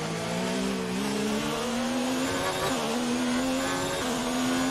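A Formula 1 car engine in F1 2019 racing at the Chinese Grand Prix, a loud continuous high-pitched whine climbing in pitch through gear shifts, steady and close.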